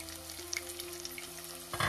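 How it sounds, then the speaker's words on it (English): Shallots fry in a covered pan with a quiet, steady sizzle and small crackling pops, ending in a louder burst of spattering. "We'll allow the shallots to fry."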